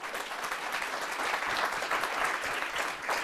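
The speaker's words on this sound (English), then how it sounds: "give a big applause for our very brave panelists" An audience at a business-development funding seminar applauds its panelists: dense, sustained clapping that stays loud and even throughout, with no voices over it.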